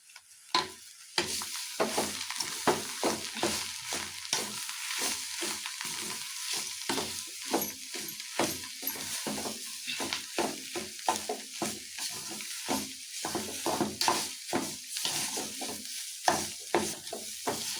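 Grated coconut being stirred into sambar in a pan, with a steady run of scraping spoon strokes over a soft sizzle, close and moderately loud, no voices.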